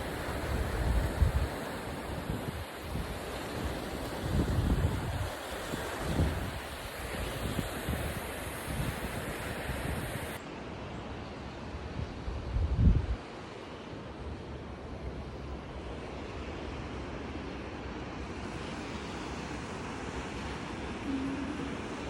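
Sea waves at the seaside under gusting wind: rolling surf with wind buffeting the microphone, louder surges in the first half, then a calmer, steady wash of waves.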